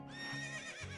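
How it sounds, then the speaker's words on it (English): A horse in the video game Zelda Ocarina of Time gives a single short, bright whinny that rises and then falls away, heard alone and fairly quiet. "Shh! Be quiet, horse! You're gonna get us caught!"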